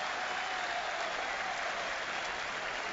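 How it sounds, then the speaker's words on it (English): Football supporters at a Milan match applaud a substituted player, Montolivo, with steady, dense clapping from a stadium crowd, held at an even level without pause throughout. "Gets generous applause from the supporters turned out today."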